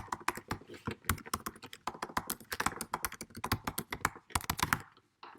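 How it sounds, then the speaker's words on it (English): Someone types a web address on a computer keyboard, producing quick, close key clicks in uneven bursts with brief pauses, ending in a short silence. "I can type my URL of my website and just press apply"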